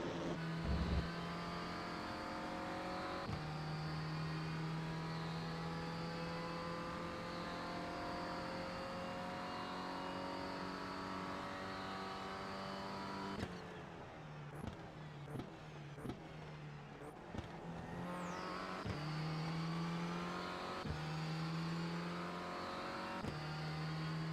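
Renault Clio Cup race car engine heard from on board during an iRacing race at the Hungaroring, a loud steady drone that drops and rises through gear changes, with a rougher, broken stretch midway before the revs climb again.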